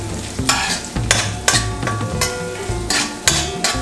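Onion and scallion cooking in butter in a pot, a close steady sizzle broken by repeated scraping stirs of a spoon against the pot at a regular pace.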